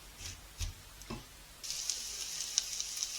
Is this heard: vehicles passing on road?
no